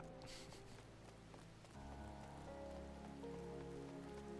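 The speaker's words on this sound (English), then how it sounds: "A rainy day." Rain falling in the video game Final Fantasy XIV, a soft steady patter on surfaces heard faintly behind a low sustained musical drone with no speech.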